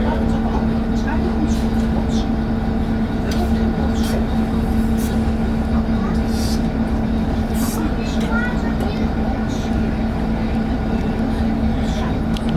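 Vintage Swedish railbus running on the line from Gävle, a steady low engine drone and rumble with a constant hum, heard from inside as a continuous loud ride with faint clicks over it.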